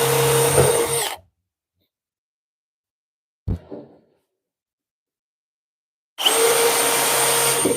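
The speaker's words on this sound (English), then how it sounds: "Drill a couple holes." A loud, steady machine whir runs for about a second, then silence broken by one short burst of a power drill drilling holes in a workbench piece, and the whir returns.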